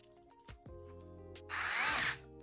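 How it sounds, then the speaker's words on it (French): An M3 screw being driven into a Tamiya Opel Kadett GT/E model kit on an MB-01 chassis, giving one close, steady whirring burst of about half a second near the end, after some light handling noises. "Et on va visser la première."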